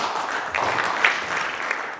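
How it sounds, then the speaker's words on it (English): Audience applause at a Connecticut Democratic gubernatorial candidates' forum, a brief, moderately faint patter of clapping from a crowd with a few sharper individual claps. "Sorry, step on your applause."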